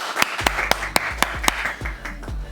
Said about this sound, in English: Can we get a clap in the chat,